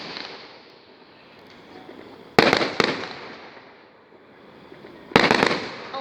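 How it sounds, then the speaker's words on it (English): Fireworks at a 100-shot show: two sharp, loud bursts and a later third, each followed by crackling decay, over a steady background hiss of distant crackle between blasts. "I think this fireworks will at least long for 3 minutes."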